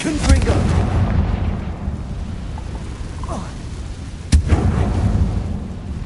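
Confringo fire spell blasting in Hogwarts Legacy, a loud booming explosion with rumbling crackle, plus a sharp second blast about two-thirds through, under steady game ambience.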